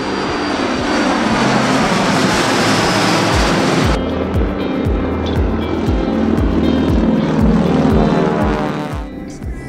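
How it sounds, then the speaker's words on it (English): L-39 jets and warbird aircraft fly at the 2021 Oshkosh air show, giving a loud, constant engine roar with a pulsing, throbbing low drone. It stays near and powerful for the whole stretch, with no speech. "We woke up to the sweet sound of L-39 jets and various other warbirds"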